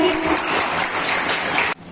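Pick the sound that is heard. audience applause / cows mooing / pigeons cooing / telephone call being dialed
audience applause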